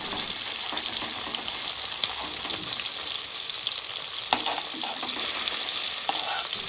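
Hilsa fish tails fry in hot oil over a medium gas flame, giving a steady, close, dense sizzle and crackle throughout, with a few sharper pops and spatters and no talking.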